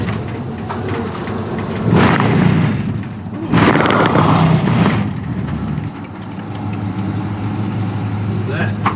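A 1949 Ford F-5 truck's engine rumbles steadily while driving, with a low droning note, surges in throttle and occasional thuds from the cab and chassis.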